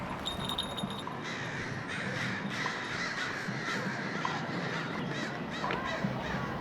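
Crows caw over and over from city trees in Portland in winter, many birds calling at once over a dense, constant background of chatter and urban noise.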